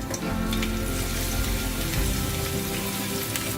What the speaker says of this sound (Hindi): ऑयल में हम ऐड करेंगे लहसुन, दैट इज गार्लिक। इनको फ्राई करेंगे।